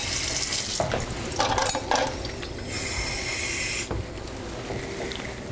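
Tap water pours into a mixture being prepared in a home kitchen. The rush is steady and fairly loud, with a few brief clinks and splashes partway through.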